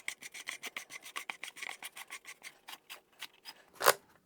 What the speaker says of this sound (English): Hear that ratcheting?